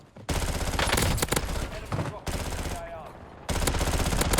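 PPSh submachine gun in Call of Duty Warzone firing loud, rapid sustained bursts, with three long strings of automatic fire broken by brief gaps and game sounds mixed in.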